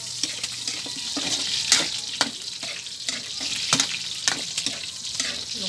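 Pork humba frying in hot oil, a steady loud sizzle that runs throughout, broken by sharp clicks and scrapes of stirring; no one speaks.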